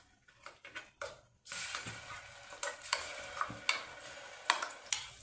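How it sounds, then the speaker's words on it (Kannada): Cumin seeds sizzle in hot ghee while a spoon stirs the pan, giving a crackling fry with repeated sharp scraping and tapping strokes, close and fairly quiet. "ಜೀರಿಗೆನ ತೊಗೊಂಡು ನಾನು ಈ ತುಪ್ಪದಲ್ಲಿ ಒಗ್ಗರಣೆ ಮಾಡ್ತಾ ಇದ್ದೀನಿ"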